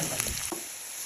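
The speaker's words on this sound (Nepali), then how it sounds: "यसलाई चाहिँ हामीले रातो हुँदैसम्मको लागि चाहिँ मजाले भुट्नु पर्ने हुनेछ।" Food for a chicken biryani frying in a pan until browned, giving a brief, steady sizzle with a few soft stirring scrapes, close and fairly quiet.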